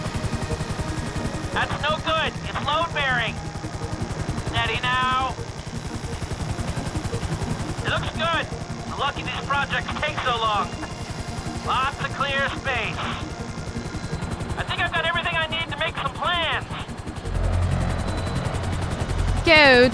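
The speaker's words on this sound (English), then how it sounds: "Just hold the chopper here." A chopper hovers in Grand Theft Auto V with a steady rotor drone throughout, while bursts of warbling sirens or alarms rise and fall repeatedly over it, no talk heard.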